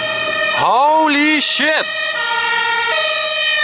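A fire engine siren passes close by, loud rising and falling wails that sweep up and down and then settle into a steady high tone, with a man exclaiming over it.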